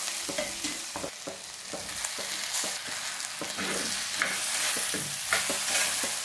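Drained cassava gets stirred into cooked sardines in a pan, with a spoon scraping and knocking rhythmically against the pan over a soft continuous sizzle.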